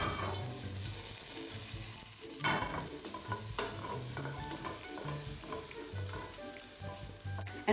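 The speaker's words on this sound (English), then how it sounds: "So saute these until they're nice, soft and cooked" Shallots sizzle and fry steadily in a hot pan, with occasional stirring scrapes and clinks throughout.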